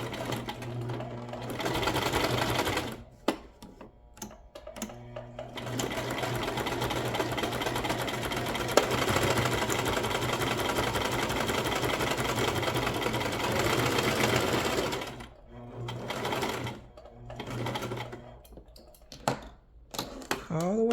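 A sewing machine stitches scrap fabric in long, steady runs of rapid whirring, stopping and restarting several times with short pauses and brief bursts near the end.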